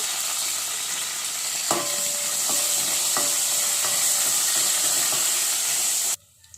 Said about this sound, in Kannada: ಸಾಸಿವೆ ಸಿಡಿತಾ ಇದೆ ಈಗ. ಇದಕ್ಕೆ ನಾನು ಬೆಳ್ಳುಳ್ಳಿ, ಒಣಮೆಣಸಿನ್ಕಾಯಿ, ಕರಿಬೇವು ಹಾಕಿದ್ದೀನಿ.